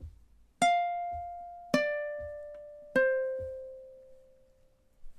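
Ukulele picking a measure of the MASH theme: three clear plucked notes roughly a second apart, each ringing out and slowly decaying, close and solo with no talking.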